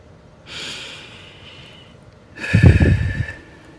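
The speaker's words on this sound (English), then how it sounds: "Take a breath" A deep breath: a long airy inhale through the nose, a short pause, then a heavier, rougher exhale, all close and alone with no speech.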